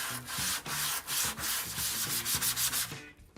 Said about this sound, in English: So, straight to the sandpaper. Bit of oil. And grind away.